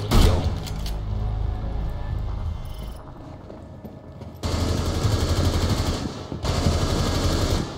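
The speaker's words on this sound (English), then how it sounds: "Hostage down, injured by enemy fire." Loud automatic gunfire in the tactical shooter game Rainbow Six Siege: dense bursts of rapid shots fill the opening seconds, a quieter stretch follows, then two more sustained bursts of fire.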